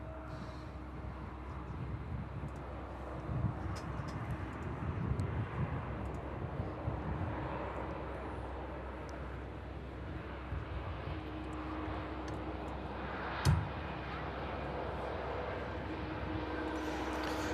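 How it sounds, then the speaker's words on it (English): A TUI Dreamliner departs from the south runway at Manchester Airport, a steady distant jet engine roar that swells slightly midway under a constant outdoor rumble, with a short knock near the end. "This TUI Dreamliner on the south runway is on its way out to Melbourne"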